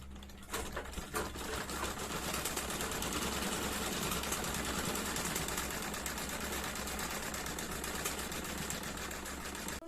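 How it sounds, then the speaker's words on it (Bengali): A sewing machine runs steadily and close, a fast continuous mechanical rattle of stitching fabric for a square-neck maxi dress, with no talk over it. "দেখুন এখানে আমি সেলাই করে এটাকে আটকে দিব।"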